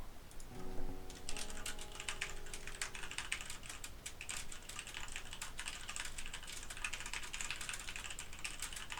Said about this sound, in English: Sorry, just typing here.